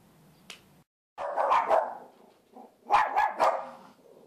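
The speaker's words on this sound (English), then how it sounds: "my puppies started barking" Puppies bark indoors in two short clusters of yips and barks, fairly close and moderately loud, separated by a brief pause.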